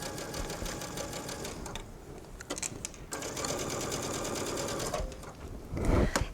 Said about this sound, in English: So you'll stitch one second line right inside of there.